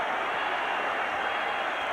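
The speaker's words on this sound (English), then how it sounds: "They're on their feet in Atlantic City as Arturo Gatti has brought the crowd to life again." Boxing crowd at an Atlantic City fight roaring continuously, a dense wash of cheering and hubbub with no distinct breaks, loud and sustained throughout.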